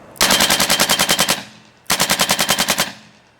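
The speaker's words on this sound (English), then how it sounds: "one pull of the trigger is going to allow you to shoot in full auto" RAP4 paintball marker with an electronic trigger firing in full auto, two loud close bursts of about a dozen rapid sharp shots each, separated by a brief pause.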